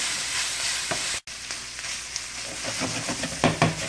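Garlic frying in a pan with browned Italian sausage gives a loud, steady sizzle that cuts out for a moment, then returns with stirring scrapes and crackles close up, and nobody speaks.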